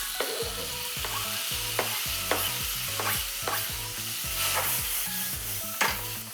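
Tomatoes sizzle in olive oil in a pan, a continuous frying hiss broken by regular stirring scrapes about every second, close and clear, with no voices.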